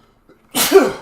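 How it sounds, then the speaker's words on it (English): A character in the video game Fallout New Vegas lets out a single loud, close sneeze: a brief intake followed by a sharp burst that trails off quickly, with nothing else in the sound. "I'm allergic to him. Now I'm sneezing."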